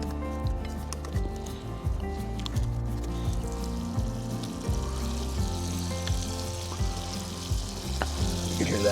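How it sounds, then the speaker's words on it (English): Food sizzles and fries steadily in a pan at an outdoor truck-bed campsite, a continuous close crackle with light stirring and scraping sounds over the whole stretch. "You can hear that. Sizzle,"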